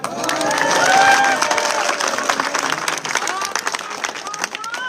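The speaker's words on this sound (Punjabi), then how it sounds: "ਤਾਂ ਆਪਣੇ ਨਾਂ ਦੇ ਆਪੇ ਤਾੜੀਆਂ ਮਾਰ ਲਓ" A crowd applauds and cheers loudly at a village welcome for a man released from jail, the clapping peaking early and then settling into scattered claps, shouts and voices.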